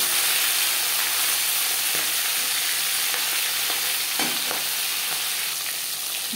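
Bhola bhetki, a soft sea fish, frying in a pan until reddish and crisp: steady close sizzle and spatter running throughout with scattered sharper pops, no voices.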